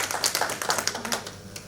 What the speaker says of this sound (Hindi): ताली बजबाक चाही।